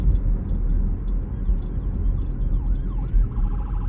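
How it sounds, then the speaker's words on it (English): An ambulance siren wails as it passes through traffic, heard from inside a car during a driving lesson; the rising and falling tone stays fairly faint beneath steady road and engine rumble, clearest near the end. "There's the ambulance."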